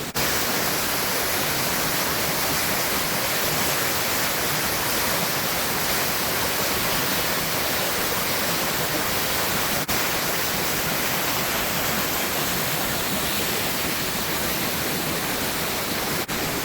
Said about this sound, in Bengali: ঝর্ণা দেখো